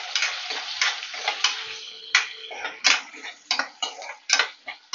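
Garlic cloves frying in hot oil with cumin seeds in a pan, loud crackling sizzle broken by sharp spitting pops in an irregular rhythm, close and on its own.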